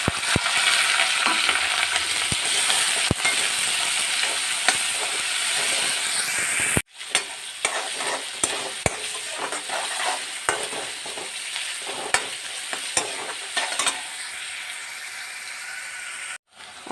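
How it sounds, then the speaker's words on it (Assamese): Chopped onion and sliced green chilies fry in a hot pan, giving a loud, steady hiss and sizzle with stirring scrapes throughout and a brief sharp drop in the middle. "এতিয়া মই এইখিনি ৰুকি লোৱা পিঁয়াজ আৰু ফালি লোৱা জলকীয়াখিনি দি দিম।"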